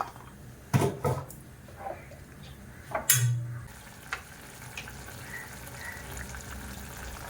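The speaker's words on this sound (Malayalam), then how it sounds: "ഇത് നന്നായിട്ട് തിളക്കട്ടെ" A simple fish curry soured with tamarind simmers in a pot, a low bubbling bed broken by a few sharp clatters and scrapes of stirring, close and moderately quiet.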